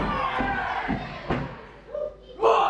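A kick landing on the hamstring during a Project Payne versus Duel Velocity fight at Brackley gives a few dull thuds under steady crowd noise, with a louder burst of crowd reaction at the end.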